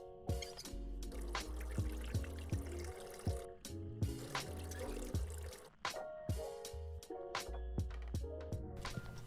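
In the Phasmophobia video game, a garden hose runs in a building's backyard, giving a faint, steady trickle and pour of water with soft rhythmic thumps underneath.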